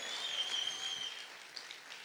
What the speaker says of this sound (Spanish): ¿Cuántos pueden aplaudir más fuerte al Señor?